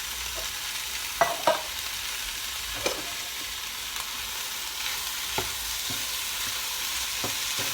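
Chili mac ingredients are stirred into browning meat in a pan, producing a steady, moderate sizzle broken by a few light scrapes and taps of the spoon, with no voices.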